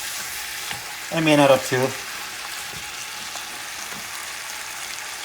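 Goat stew meat sizzles on the stove for island-style cabrito guisado, with a brief burst of stirring and scraping in the middle over a steady frying hiss while a voice speaks briefly.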